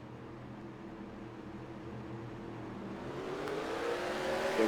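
Modified race cars idle and rumble in a tight pack behind the pace car at Eldora Speedway, a steady layered engine drone swelling louder toward the restart.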